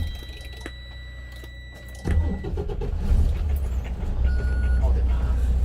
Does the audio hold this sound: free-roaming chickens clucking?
no